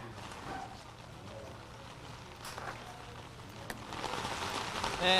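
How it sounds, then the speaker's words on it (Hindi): Heavy monsoon rain falling on Sahkar Marg in Jaipur, a steady hiss of rain on the street with some traffic noise underneath that gets a little louder toward the end. "2 जुलाई से बारिश का दौर फिर से शुरू होगा, वही तस्वीर एक बार फिर से बनी है"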